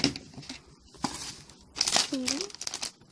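Popin Cookin ice cream kit package being torn and crinkled open in a few rough bursts, plastic wrapper rustling close by while a person talks over it.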